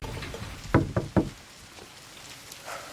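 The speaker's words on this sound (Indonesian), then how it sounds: "Ketika mereka mengetuk salah satu pintu" Three firm knocks rap on a door in quick succession, fairly close, then fade into quiet room tone, from a thriller film in which two missionaries call at a house.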